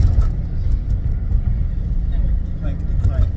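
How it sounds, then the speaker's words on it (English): Rough-running Porsche driving with a heavy, constant low engine and road rumble and faint rattles, with people talking over it. "This is the roughest Porsche I've ever driven."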